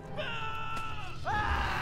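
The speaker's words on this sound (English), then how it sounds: "There's a lot of screaming in this game" Drawn-out wailing scream from a character in Lord of the Rings Online, a sustained strained cry that falls away and then rises again in a second shorter wail, with no talking.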